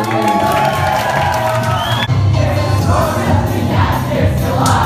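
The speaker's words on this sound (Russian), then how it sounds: "Аплодисменты девчонкам." A crowd at a medical graduation ceremony in Russia cheers and whoops loudly, with a dense, lively swell of voices that keeps going without a break.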